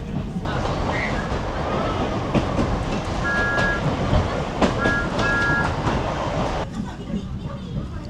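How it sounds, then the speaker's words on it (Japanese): Thomas the Tank Engine steam train on the Oigawa Railway in Japan, heard from inside a carriage as a steady rumble with clacking over the rails and brief chimes, with an onboard announcement over it. "機関車トーマス号新金谷行きです"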